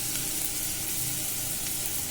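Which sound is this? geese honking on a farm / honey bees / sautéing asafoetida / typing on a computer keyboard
sautéing asafoetida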